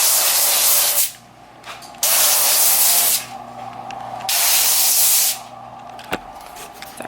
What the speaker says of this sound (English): And then I'm just gonna use a little bit of this avocado oil spray.